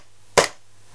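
A single sharp shot from an Army Armament 1911 MEU airsoft pistol, one short crisp crack close by, quickly decaying into a quiet background.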